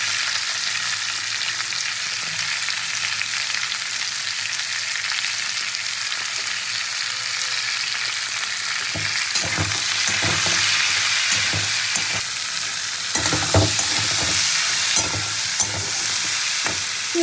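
Jackfruit (echor) pieces fry in a pan with turmeric and salt, a steady close sizzle throughout with stirring scrapes and clatters growing busier in the second half, no talking.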